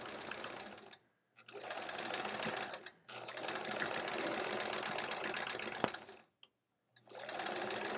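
Domestic sewing machine running in long continuous bursts of steady mechanical whirring while free-motion stitching along the edge of a quilt-as-you-go sampler block, with brief pauses between runs and no talking.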